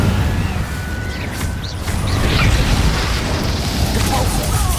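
Incendio fire spell in the Hogwarts Legacy video game, a roaring fiery blast with a dense low rumble and crackling bursts, heard amid ongoing battle noise.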